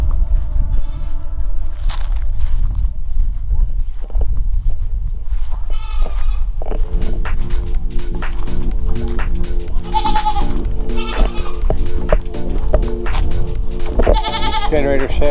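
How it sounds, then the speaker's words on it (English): Resident goats on a farm in the Taytay area bleat repeatedly, loud and close, with several overlapping calls over steady outdoor background noise. "Resident goats."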